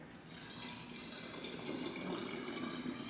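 Liquid pours steadily for homemade water kefir flavored with a tablespoon of extract, a continuous close splashing stream with no talking.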